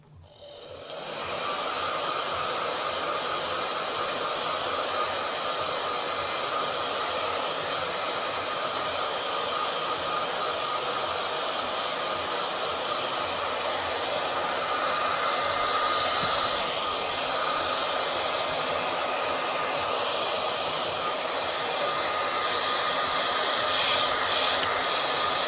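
A heat gun blows steadily while heating T molding, a continuous hissing airflow that starts abruptly and holds at an even level throughout, close and alone.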